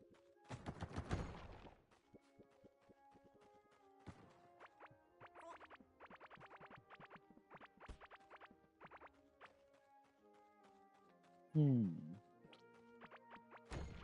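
Bombs go off in the game Core Keeper, with a sharp burst near the start and another heavy blast near the end, separated by plinking, tonal game effects and short clattering hits.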